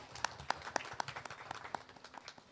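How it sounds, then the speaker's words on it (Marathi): Audience applause at a kirtan festival during a Shri Ram birth celebration, welcoming the kirtan performer: a fairly faint, steady patter of many hands clapping with a few sharper individual claps standing out. "कीर्तनकार कुमारी गौरी खांडेकर यांचा आपण टाळ्या वाजवून स्वागत करूयात"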